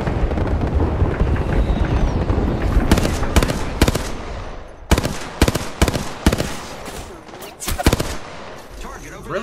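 Automatic gunfire in a first-person shooter: dense, loud bursts of rapid shots in several separate volleys, with background game noise between them.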